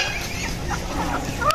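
Native chickens and hunting chickens cluck in short, scattered calls over a dense, noisy farmyard background.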